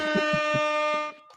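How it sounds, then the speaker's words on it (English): A loud, sustained air horn blast holds one steady, brassy tone for about a second before cutting off, with a few thumping beats underneath. "An air horn."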